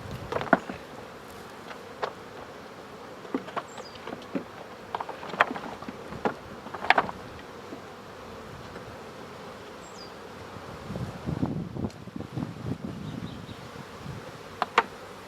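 Honey bees buzz around hives in a bee yard, a faint, steady hum with occasional closer buzzes passing by and soft handling sounds.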